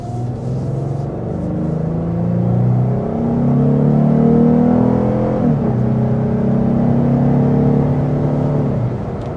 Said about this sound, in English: Now, as we accelerate